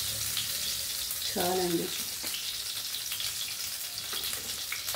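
Oil poured into a hot kadai for a brinjal and raw mango curry, giving a steady close hiss and sizzle throughout, with a short spoken word partway through.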